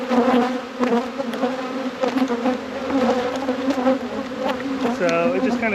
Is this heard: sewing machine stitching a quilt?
no